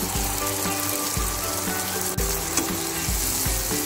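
Noni flowers frying in a pan keep up a loud, steady sizzle while a spatula stirs them in repeated scraping strokes about every half second, close up with no voices.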